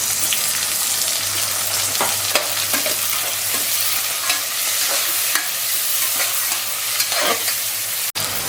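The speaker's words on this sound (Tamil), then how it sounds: "நல்லா வதக்கிக்கோங்க" Tomatoes sautéing in a pan for mutton biryani give a loud, steady sizzle with repeated scraping stir strokes throughout and no talking.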